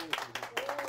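A Korean lecture audience gives a brief burst of clapping, with a voice over it.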